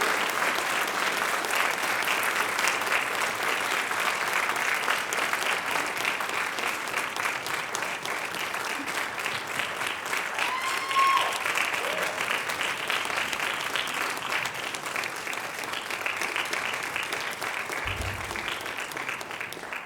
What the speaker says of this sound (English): So please give our fantastic seniors a round of applause.